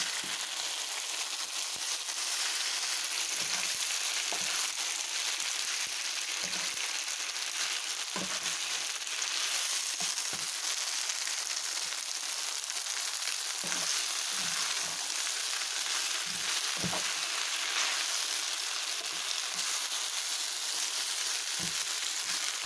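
Instant noodles stir-fried with meatballs, sausage and vegetables sizzle steadily in a pan, a constant loud frying hiss broken by frequent soft scrapes and knocks of the utensil as everything is mixed together.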